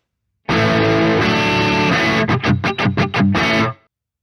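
Spacey electric guitar intro drenched in delay and echo: loud sustained chords ring out, then a run of quick rhythmic stabs pulses with echoing repeats before the sound cuts off.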